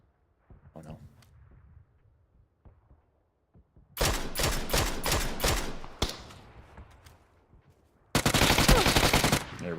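Automatic gunfire in the video game PUBG: rapid bursts of loud, close shots in two long volleys with quieter scattered shots and thumps between, and a little talk at the start.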